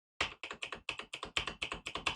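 Keys on a computer keyboard are struck in a rapid, even run of about a dozen crisp, close taps, each a short sharp click with a quick decay, with no voices over them.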